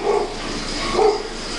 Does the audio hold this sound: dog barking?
yes